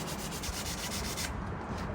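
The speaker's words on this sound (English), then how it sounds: "you wanna get some like 600 grit sandpaper. We're just gonna kind of start sanding it a little bit." A drone frame being sanded by hand with 600 grit sandpaper, heard as steady, close rhythmic scratchy rubbing strokes with no talk.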